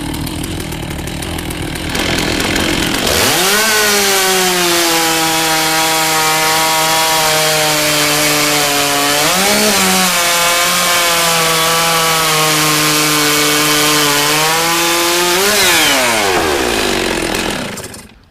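A stock chainsaw runs close and loud at a high buzzing whine, its pitch dropping and settling, then revving up and down again twice, before the engine cuts at the end.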